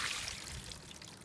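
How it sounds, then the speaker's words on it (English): Wet tomato seed slop poured through a quarter-inch screen into a small concrete pail, making a brief, close, steady splashing pour with no talk. "So I'm just going to pour this slop down"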